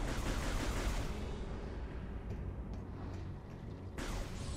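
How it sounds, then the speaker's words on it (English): Small explosions from shooting at a puddle in Metroid Prime 3, a quiet, dense crackle of bursts running continuously, with a few sharper pops near the end. "small explosions when you shoot at it"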